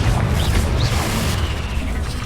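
A Confringo fire spell explodes in the Hogwarts Legacy video game, a dense booming blast with crackling debris that stays loud across the whole stretch amid continuous battle noise.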